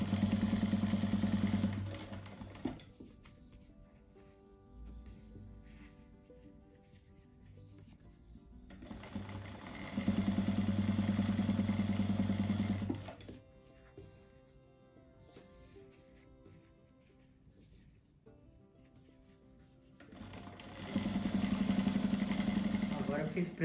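Sewing machine stitching fabric strips for a butterfly craft, loud motor whirring in bursts of a few seconds separated by quieter pauses where a voice talks.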